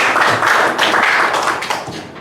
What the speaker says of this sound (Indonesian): Tepuk tangan untuk pengajar.